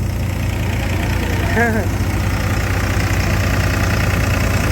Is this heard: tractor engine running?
yes